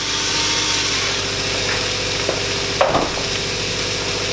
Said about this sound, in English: We'll let those sear away beautifully.